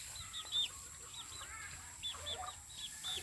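Chickens cluck softly at a countryside hut, with repeated short calls scattered through a faint, quiet background, with no talk.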